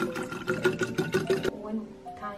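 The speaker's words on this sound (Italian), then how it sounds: "mi riempio la mia borraccia d'acqua" A reusable water bottle being filled with water, a close, rhythmic gurgling fill that rises and pulses, then stops abruptly partway, leaving a quieter tail.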